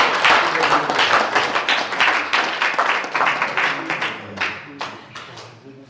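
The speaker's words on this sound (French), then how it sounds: "Oui, on applaudit, merci." An audience applauds at a political morning gathering in Verneuil, Paris, a dense burst of clapping that thins into scattered claps toward the end.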